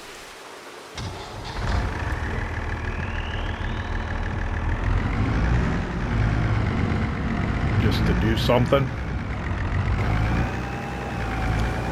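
A Fiat tractor pulling a water tank in Farming Simulator 25 on a rainy day, its steady mid-pitched engine drone rising in pitch as it gets going, with rain in the background and someone talking over it.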